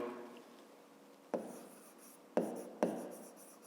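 Chalk or marker writes on a board during a fifth-grade maths lesson, soft scratching strokes with three sharper tapping onsets, close and quiet.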